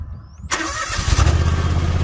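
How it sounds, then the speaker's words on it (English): A John Deere X739 lawn tractor with a Kawasaki engine and a 54-inch belly mount deck starts up outdoors: a quiet stretch, a sudden cranking catch, then a steady close engine running. "we're going to start that John Deere X739"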